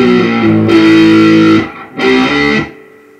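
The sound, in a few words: distorted electric guitar playing a riff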